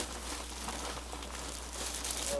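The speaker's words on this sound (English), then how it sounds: "and a nice plastic bag, and another plastic bag" Plastic bag crinkling close by while a Panasonic RX-4975 radio is unpacked, irregular rustles and crackles over a low steady hum, growing slightly busier toward the end.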